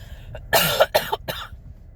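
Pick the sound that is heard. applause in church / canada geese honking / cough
cough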